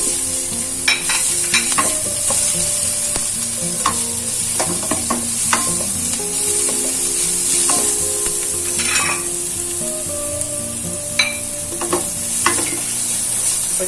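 Green chili and onion sauté in a hot pan for a vegetable soup, a steady loud sizzle with a spoon stirring and scraping now and then against the metal throughout.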